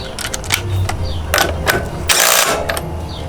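A ratchet wrench with a 24mm socket tightens a bolt on a 2020 Vespa GTS HPE scooter. Several quick bursts of ratcheting clicks come up close and fairly loud, with short pauses between them.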